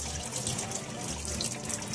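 Steady tap water running and splashing as a cast iron pan is rinsed in a kitchen sink, a continuous close gush with no pauses and no talking.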